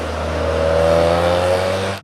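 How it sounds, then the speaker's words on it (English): Exhaust of a BMW F800GS motorcycle, its 798cc parallel twin giving a flatulent, throbbing note at steady revs, loud and close throughout without speech. "a light and narrow 798cc parallel twin engine, developing 85 horsepower, 62 pound-feet of torque, and a flatulent exhaust note"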